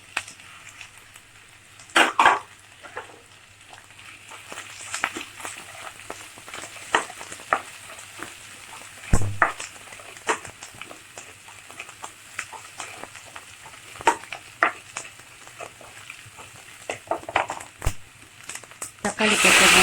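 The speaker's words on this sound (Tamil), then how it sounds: "ஓகே, இப்போ சில்லி போட்டுடலாம்." Red chilies frying in a pan of sesame and coconut oil, a steady crackling sizzle with scattered sharper pops and stirring clatter.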